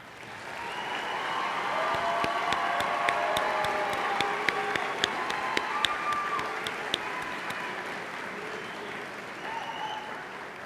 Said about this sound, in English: Everyone, please join me one last time in applauding our graduates.